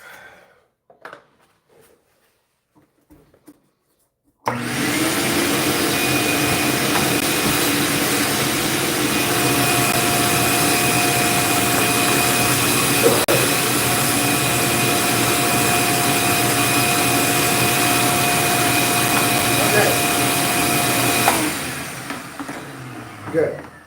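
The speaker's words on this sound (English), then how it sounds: "I'm gonna do a little bit of quick vacuum here." A household vacuum cleaner switches on after a few quiet seconds and runs at a steady loud whine for about seventeen seconds during a quick cleanup, then powers down near the end.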